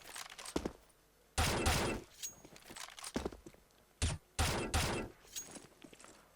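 M4 rifle fire in Counter-Strike: Global Offensive comes in several sharp, loud bursts of rapid automatic shots. Short quiet gaps separate each burst.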